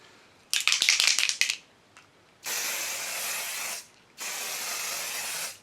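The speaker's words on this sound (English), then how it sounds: "I'm going to spray it on my face just to see if you can see a difference" An aerosol can of bronzing powder mist gives a quick rattling shake, then two long, steady, close hissing sprays separated by a brief pause.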